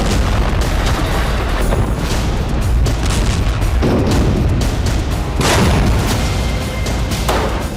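Repeated heavy booms and blasts from ambushes on Israeli army tanks in narrow streets in Gaza, loud and continuous, with several sharp bursts layered over a rumbling, noisy background.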